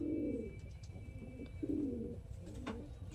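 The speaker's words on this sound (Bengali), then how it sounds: "বিগ সাইজের পায়রা" Large pigeons coo nearby in soft, low, rolling phrases, with two or three coos spaced a second or so apart over quiet background noise.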